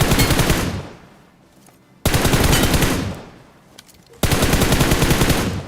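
Bursts of automatic gunfire from a shooter video game, three loud, rapid volleys, each cutting off and fading into a short echoing tail before the next begins, with no voices.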